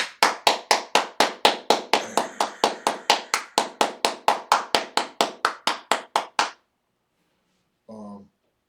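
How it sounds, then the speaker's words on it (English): Hands clap in a steady run of about two dozen sharp, evenly spaced claps for six seconds, then stop, leaving near silence with a brief faint noise at the end. "let me clap it up for this brother"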